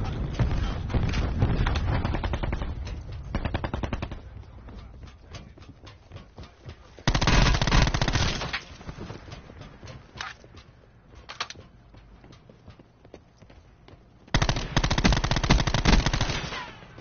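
Loud bursts of video game gunfire from a player shooting, dense rapid fire that comes and goes in three heavy stretches with quieter shots and game noise between them.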